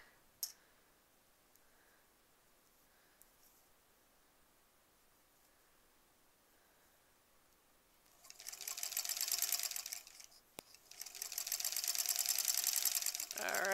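A sewing machine stitches a seam on a basic quilt block, starting after a quiet stretch with faint clicks, then running steadily and fairly loudly in two bursts with a brief pause between.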